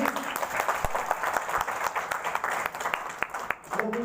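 An audience claps during a talk, a busy patter of applause with a voice speaking over it toward the end.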